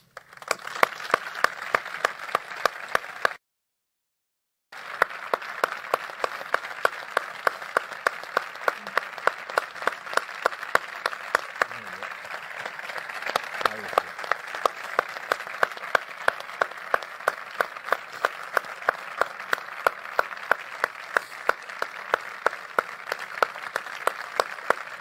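An audience applauds at Sergio Agüero's retirement announcement, with sustained, even clapping that continues steadily except for a short break, carrying a faint rhythmic pulse throughout.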